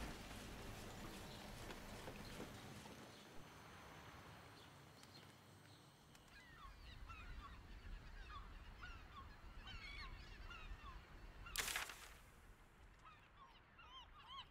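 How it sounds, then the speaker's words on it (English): Seagulls call in short, repeated cries over a soft, steady background of ambient noise in a fantasy game's outdoor scene, with a brief sharp burst near the end. "Seagulls."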